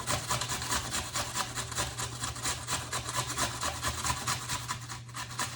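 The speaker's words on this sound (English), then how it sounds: "we're gonna grate these radishes" Radishes rubbed against a grater in quick, steady back-and-forth strokes, a continuous close scraping rasp with no pauses.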